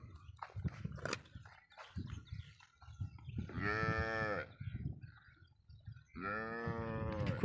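Calves at a cattle market in a Bangladesh border char area give two long, loud moos close by, with fainter animal and crowd noise in between.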